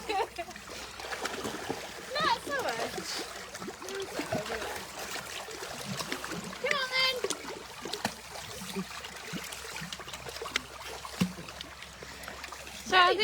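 Water splashes and trickles as penguins move about their pool at a wildlife park, soft irregular splashing and dribbling with occasional bird calls, while people talk over it.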